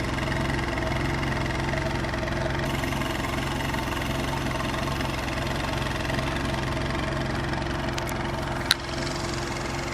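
Steady idle of a Nissan Juke Nismo engine, a constant low even hum with a brief click near the end, heard alone.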